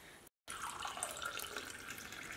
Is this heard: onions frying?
no